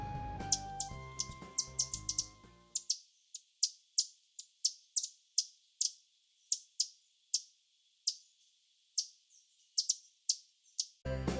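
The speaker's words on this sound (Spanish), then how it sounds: "las aves que se encuentran en zonas abiertas como el dosel del bosque tienden a cantar de forma más aguda y con notas" Song of a bird from open habitat such as the forest canopy: a regular series of high-pitched, very short chirping notes repeated about twice per second, clear and alone. The notes follow a brief stretch of music.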